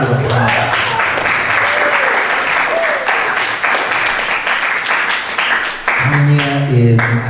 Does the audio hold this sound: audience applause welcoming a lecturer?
yes